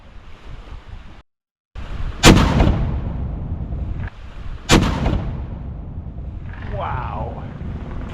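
A period cannon fires twice outdoors, each blast a loud, sharp boom that rolls off into a long echo, with wind and water-like background noise and a brief gap of silence before the first shot.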